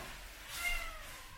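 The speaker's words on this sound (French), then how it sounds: "on va faire sortir le chat" A cat in a classroom lets out one short, complaining meow midway, moderately close and alone over a steady room hiss.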